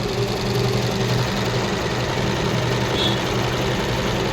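A Usha Janome Allure sewing machine stitches embroidery on a blouse, running as a continuous, close mechanical whir and hum with a fine rapid rattle and no talking.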